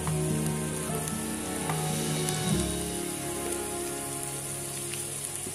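Onion with salt sizzling in hot coconut oil for a Kerala-style chicken mulakittathu, a steady crackling hiss like rain on a surface, with a brief scrape of stirring midway, close and continuous, no speech.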